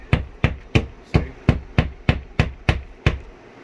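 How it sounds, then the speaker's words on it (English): Ten sharp, evenly spaced hammer strikes on nails ring out loud and close, one roughly every third of a second, with no voices over them. "As you're hammering with this, you'll be twiddling this finger around, trying to get your next nail ready."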